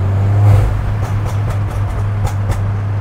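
A steady low engine hum of a Peugeot 208 GTI on the move downhill, smooth and fairly loud, with a few faint hissy swells over the drone.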